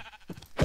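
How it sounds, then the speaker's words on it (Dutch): Minecraft sheep bleats in the video game, a short nasal call rising near the end of the moment over faint background noise. "Ga weg, schaap."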